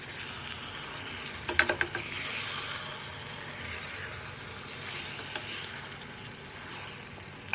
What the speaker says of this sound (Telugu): కలిపి పెట్టుకున్న చికెన్ వేసుకోవాలి. వేసుకొని బాగా కలిపుకోవాలి.